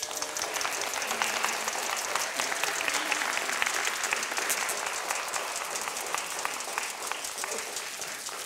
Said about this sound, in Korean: then let's have a big round of applause.